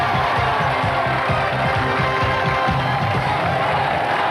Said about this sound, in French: quelques applaudissements à tonnerre d'encouragement pour nos deux équipes